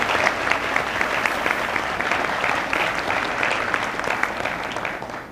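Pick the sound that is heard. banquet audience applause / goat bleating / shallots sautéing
banquet audience applause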